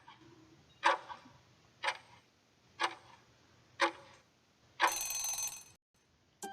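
Quiz countdown timer giving five evenly spaced sharp ticks about a second apart, ending in a longer bright buzz or ring, clear and close with no talking.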